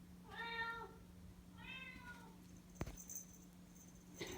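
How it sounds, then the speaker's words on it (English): A recorded Siamese cat meows twice through a Google smart speaker, giving two drawn-out tonal cries in a quiet room with a faint steady hum, followed by a sharp click. "This is a Siamese cat."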